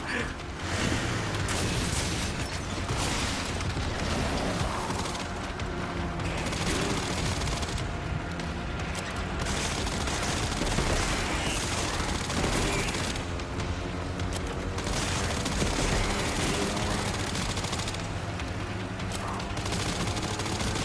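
Sustained, dense gunfire from the Resident Evil 9 video game, with bursts of shots and booms running continuously at a loud, steady level under talk.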